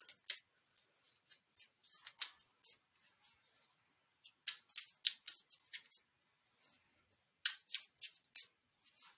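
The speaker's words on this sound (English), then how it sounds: "let's go ahead and pull up a few cards from the Prism Oracle deck" Cards being pulled from a Prism Oracle card deck make soft, close papery flicks and slides, coming in short irregular bursts with quiet gaps between them and no talking.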